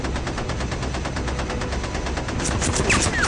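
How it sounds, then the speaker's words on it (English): Bombardier's machine gun aboard a B-17 bomber fires at an enemy fighter in a long, steady stream of rapid automatic bursts, loud and close, with sharper cracks near the end. "First to fire is the bombardier Joel Toppin."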